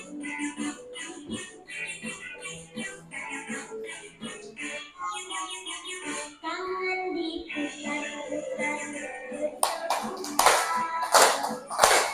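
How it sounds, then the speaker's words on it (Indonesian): A group claps along at the end of a lively session in a coding and artificial intelligence class, with a burst of dense hand claps rising over music-like tones in the last few seconds. "Oke, tepuk tangan dulu."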